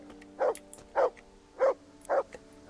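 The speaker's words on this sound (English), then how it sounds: "What are you barking at?" A dog in the medieval game Kingdom Come Deliverance barks four times at a steady pace, moderately close, with no talking over it.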